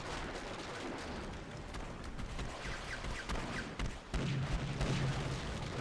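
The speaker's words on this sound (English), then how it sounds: "the space bar is shoot your cannons. Alright, so I just unloaded both sides, port and starboard" Ship cannons fire broadsides from both port and starboard in the naval game Pirates of the Burning Sea, a rumbling spread of booms and shots that rolls on steadily under light game ambience.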